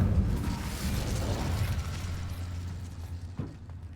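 A fire-spell explosion from the Hogwarts Legacy video game lands as a dense low roaring burst. It rumbles on and slowly fades, with a small crackling pop near the end. No voices are heard.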